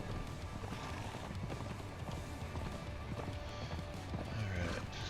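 Horse hooves clip-clop at a run in a video game, with a brief whinny, fairly faint and blended into a continuous bed of game ambience.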